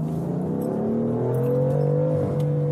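A 2020 BMW M3 pulls hard under full throttle, its engine note climbing steadily in pitch with a brief dip at a gear change, loud and close with no talk.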